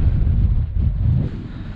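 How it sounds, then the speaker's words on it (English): Wind gusts across rugged Atlantic cliff tops on the west side of an island, producing a loud, steady low rumble and buffeting against the microphone for the whole stretch, with a brief dip midway and no voices. "The wind is blowing in that direction."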